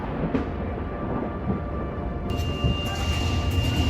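Thunder from lightning in a distant night sky under thick cloud: a steady, broad rumble that swells slightly partway through, with no voices over it.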